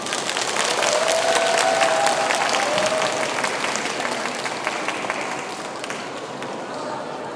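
An audience at a Buddhist Dharma talk during a Buddhist expo gives a big round of applause, full and steady clapping that slowly fades, with a brief tone heard early on.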